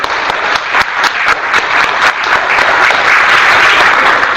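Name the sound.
audience clapping hands at teachers' workshop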